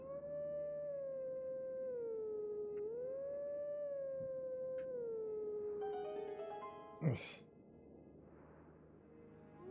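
A wolf howls in Zelda: Twilight Princess HD, one long sustained tonal howl that rises and dips in pitch, loud and close, with a brief sharp burst near the end before it fades.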